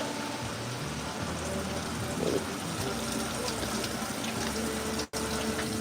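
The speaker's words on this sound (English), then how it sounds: "This is a rinse station that rinses off stuff." Water sprays steadily at a rinse station used for hydro dipping, a continuous hissing rush that runs through the whole stretch with one brief cut near the end.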